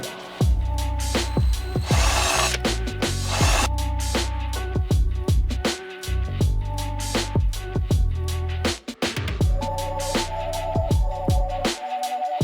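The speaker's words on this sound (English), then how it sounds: "So I'm just gonna drill it by hand and just be very careful." A hand-held power drill bores into a metal sprocket mount for an electric YZ85 dirt bike conversion, loud and close, in repeated bursts of whirring and grinding separated by short pauses, with no talking.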